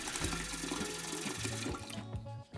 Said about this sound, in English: Fill the pressure cooker with water until it's about 3 inches above the popcorn.